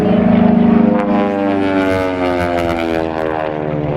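A propeller airplane performing an aerobatic half Cuban 8 at an airshow, its engine droning loud and steady with a strong tonal buzz that shifts slightly in pitch as it rolls upright and dives, no talk over it.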